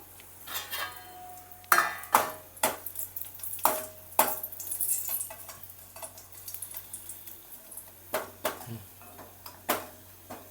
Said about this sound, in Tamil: பெருங்காயம் வந்து நல்லா வெள்ளையாக நல்லா பொறிஞ்சு வரணும்